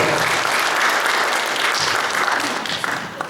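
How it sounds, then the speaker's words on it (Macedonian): Dense, steady applause from an audience at a book launch event, honoring representatives of a mountaineering sports club from Delčevo, filling the whole moment without a break. "Еден аплауз за представниците"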